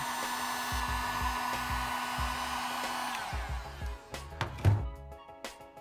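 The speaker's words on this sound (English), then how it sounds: "Set the heat gun and heat it up again" A heat gun blows steadily on a Ferrari 488 GTB headlight seal, a continuous loud airy whir with a tonal hum that later drops off, leaving a few handling thunks and knocks.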